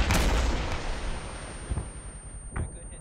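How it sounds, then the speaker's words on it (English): A rocket launcher in the video game ArmA 3 fires with one loud blast that rolls off into a long rumble, followed by fainter distant thuds. "Rocket, rocket, rocket."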